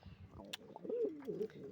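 Domestic pigeons, a mix of hybrid and native birds kept for flying, cooing softly nearby in a low, warbling series of a few rolling coos with some faint background sounds.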